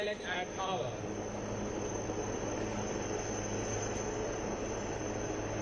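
A navy helicopter flies during an air display at the Gateway of India in Mumbai, giving a continuous, steady engine drone and rotor roar that fills the scene with a constant background rumble.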